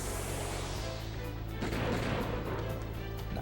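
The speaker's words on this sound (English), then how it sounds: "And then Clive can shoot." Clive fires his gun during a battle in the game Wild Arms 3, heard as a heavy booming blast that starts about halfway through over a steady low rumble of game sound.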